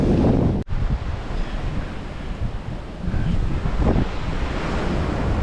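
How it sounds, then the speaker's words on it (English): Ocean surf rolls in steadily along the shore at Cape Coast, Ghana, a broad continuous wash of waves with heavy wind buffeting the microphone and one brief dropout near the start. "just looking at the ocean here"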